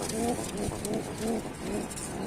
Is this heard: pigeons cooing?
yes